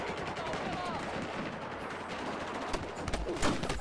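Video game gunfire from a scoped gun rattles in a dense, steady barrage of rapid shots, with a few sharper, louder cracks near the end.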